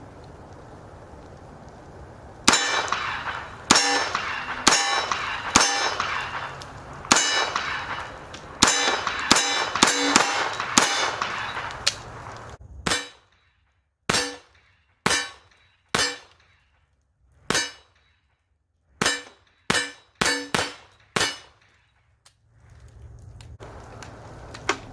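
.45 ACP AR-15 rifle fired downhill at steel targets: a string of sharp shots, each followed by a ringing clang, with quick bursts early on and more spaced single shots later, loud and close.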